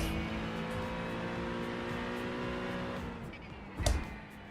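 An LMP2 race car at Watkins Glen holds a steady, sustained engine drone, with a brief louder burst near the end.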